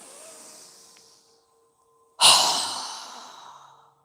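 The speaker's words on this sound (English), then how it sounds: "exhale with a strong breath with our mouth open wide" A strong, forceful exhale through a wide-open mouth during a yoga breathing exercise, following a quieter inhale; the breath bursts out loudly and close, then tapers off over about two seconds.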